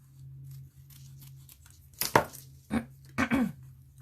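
Scissors snip through ribbon while making a gift tag, giving three or four crisp, close cuts in quick succession after a quiet stretch.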